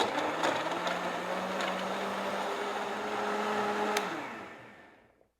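A blender whirs steadily for about four seconds as it mixes a meal-replacement shake, a close, moderately loud motor hum that spins down and fades out at the end.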